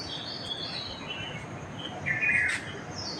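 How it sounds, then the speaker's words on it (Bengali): An oriental magpie-robin whistles at dawn, one clear bright phrase standing out late among fainter scattered chirps over a steady insect hum, with no voices. "প্রথমে দোয়েল শীষ দিয়ে তার বন্দনা শুরু করে"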